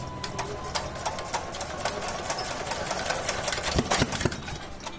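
A Chinese engine runs after being cranked, giving a steady rattling idle with rapid mechanical ticking, fairly faint and close, and a few louder thumps near the end.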